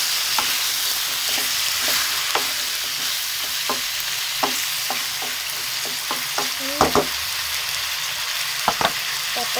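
Squash and beans fry in garlic for ginataang kalabasa, a steady close sizzle broken by frequent irregular spatula scrapes and taps on the pan, louder clatters near the end, no voices.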